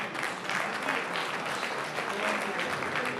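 An audience at an Urdu poetry mushaira applauds the poet, dense continuous clapping from a crowd that stays loud and steady throughout with no speech over it.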